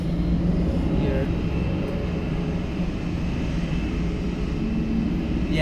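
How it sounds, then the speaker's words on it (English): Boeing 777-300ER jet engines running in Microsoft Flight Simulator, a steady loud low rumble and whine that holds evenly throughout, with a voice talking over it. "Yeah, you can hear it, yeah. Sounds really good."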